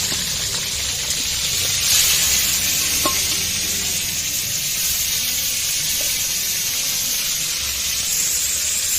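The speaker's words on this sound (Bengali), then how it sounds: "মাছের মাথা ভাজা হয়ে গেছে" Fish heads sizzle steadily in a hot pan of oil for a Bengali muri ghonto, a dense, even hiss with occasional soft stirring knocks and no voices.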